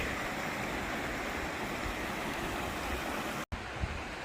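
A glacial mountain stream, MacArthur Creek, rushes steadily in a continuous broadband roar with no one talking, cutting out abruptly for an instant near the end before the flow resumes.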